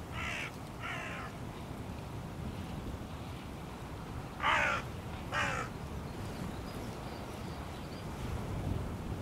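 Hooded crows caw in a field, two short pairs of harsh calls at moderate distance over steady wind and low rumbling background noise.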